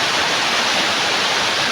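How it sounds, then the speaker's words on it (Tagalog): Roaring rush of water at Dikawal Falls, a dense, loud, continuous hiss close by with no other sounds. "Yun lang ang maririnig natin dito, yung rumaragas ang tubig lang"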